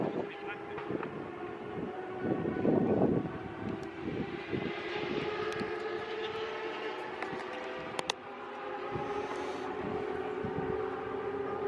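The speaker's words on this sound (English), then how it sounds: "you can hear the bikes in the background going around the track," Motorbikes circling a race track during a coronation weekend ride-out, a steady distant engine drone running through the whole stretch with a few louder passes and some nearby bumps, heard in the background.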